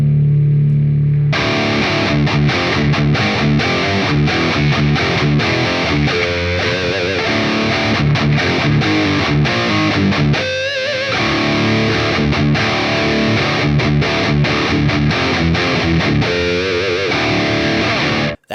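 Electric guitar through a Line 6 Helix modeling an ANGL Meteor amp, mic moved toward the cap edge, playing a loud, heavily distorted chugging riff with palm-muted rhythms and sustained chords, alone throughout.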